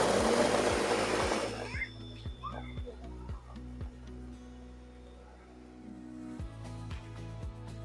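A food processor whirs loudly for a couple of seconds grinding graham crackers into fine powder, then stops, followed by quieter rhythmic mechanical pulsing and light clatter.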